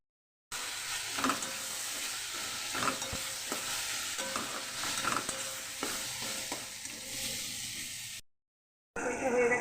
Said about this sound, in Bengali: তেল দিয়ে দিয়েছি একটা করে সব ভেজে নিচ্ছি